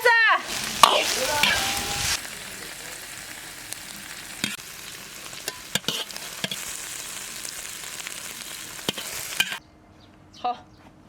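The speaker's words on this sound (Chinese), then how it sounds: "炒一炒，鸡蛋炒弄一点，出锅。" Eggs stir-fried with white wormwood in a wok sizzle loudly at first, then settle into a steady fry with scattered scraping knocks of the spatula before cutting out abruptly, with a brief clatter after.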